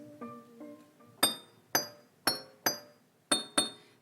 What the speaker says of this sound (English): I started with me hitting a glass with a whisk.